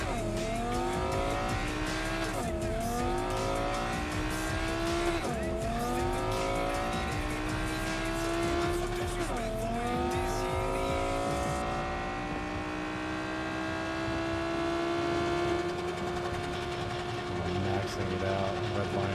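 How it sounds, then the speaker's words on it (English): Video game car engine revving up through the gears to redline in repeated rising sweeps, each rise broken by a brief dip at the shift, then holding a steady high-pitched whine, loud and continuous with no talk. "Maxing it out, redlining it at 180."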